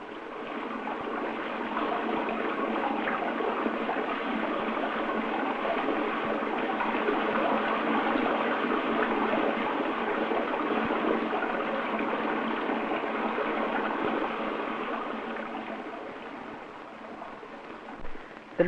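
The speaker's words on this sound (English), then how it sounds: "The famous water cascades attract visitors from all over France." Steady rush of cascading water in the park at Sceaux, France, a broad continuous splashing wash that holds evenly for about fifteen seconds, then eases slightly toward the end.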